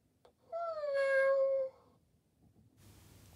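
A Joy for All animatronic orange tabby toy cat gives a single drawn-out, mournful electronic meow, clear and close, followed by quiet room noise.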